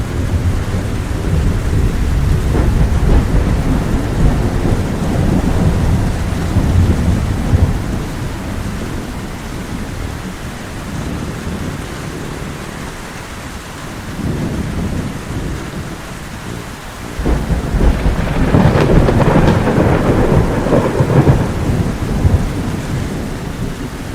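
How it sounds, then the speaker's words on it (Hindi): Heavy rain pours down steadily with deep rolling thunder rumbling through it, the downpour swelling louder near the end; no one speaks. "लगता है बहुत तेज बारिश होने वाली है"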